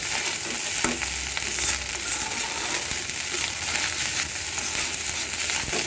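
Cooked rice being stir-fried in a pan, giving a steady sizzle with repeated scraping and stirring clatter from a utensil, close up and with no voices.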